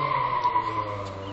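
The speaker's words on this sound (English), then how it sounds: "And somebody in the background doing burnouts." A car doing burnouts somewhere in the background, heard as a sustained tire squeal with a steady tonal whine over a low engine rumble, lasting only a moment.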